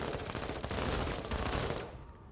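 Sustained close burst of automatic gunfire in the tactical video game MENACE, dense rapid shots rolling together loudly for about two seconds before cutting off.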